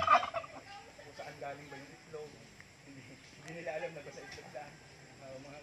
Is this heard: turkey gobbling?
yes